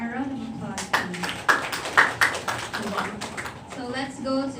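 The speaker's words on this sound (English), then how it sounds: "A round of applause, please." Scattered clapping from a small seminar audience, a loose round of individual hand claps that swells briefly and fades, heard close with a voice speaking around it.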